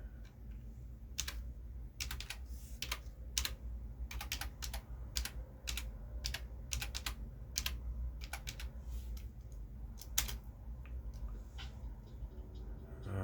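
A password is typed on a computer keyboard at an Ubuntu login: a quick, irregular run of close, crisp keystrokes with short pauses, over a low steady hum and no voices.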